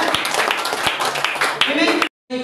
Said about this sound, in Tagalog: Palakpak sa ating Diyos sa buhay.